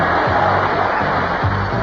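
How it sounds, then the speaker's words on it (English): A crowd at the 1994 UK snooker final applauds a new champion, a loud, dense roar of clapping and cheering that holds steady throughout. "Just listen to that applause for a really wonderful champion."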